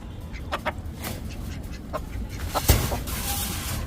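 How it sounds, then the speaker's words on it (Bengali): A hen clucks loudly and repeatedly after laying an egg, in sharp rhythmic bursts close by with other farm birds faintly in the background. "ওই যে আমাদের মুরগি ডিম পেরে দিয়েছে এখন।"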